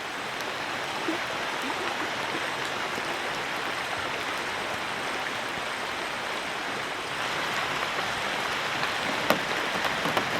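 Heavy autumn rain pours down steadily in upstate New York, a dense, even hiss of drops on surfaces that stays loud and unbroken throughout, with no voices.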